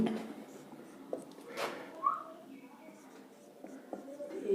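Points are written on a board with soft, scattered scratchy strokes and taps, faint and close, mixed with light room noise.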